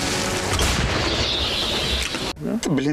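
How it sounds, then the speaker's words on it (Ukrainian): A howitzer's blast rolls out as a loud, sustained roar, then cuts off abruptly as a voice calls out briefly. "Постріл!"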